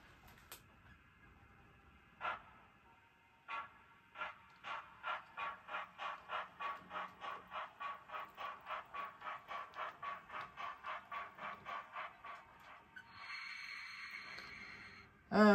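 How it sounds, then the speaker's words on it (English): A model train runs into a station, a rapid run of regular clicking beats like wheels over rail joints, steady then fading into a hissing rush near the end; no talking. "pull the rest of the train properly into the station"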